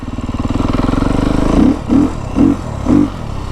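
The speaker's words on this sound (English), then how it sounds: "And we'll put it in the rain map. You can hear how it takes the peak RPMs, doesn't rev out as fast." A Beta 350RR X-Pro dirt bike engine set to its rain map idles with a steady close putter, then gives four short, evenly spaced blips of throttle that climb quickly and cut off before reaching full revs.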